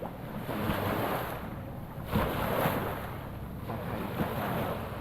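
Sea waves at Malitbog, Southern Leyte, breaking in steady, loud washes of surf with the roar swelling and easing every second or so, mixed with heavy wind buffeting the microphone, and no talking.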